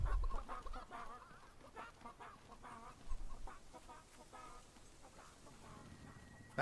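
Chickens in the video game Fable 3 cluck and squawk in a dense, busy flock chatter at moderate distance, going on steadily under faint game ambience.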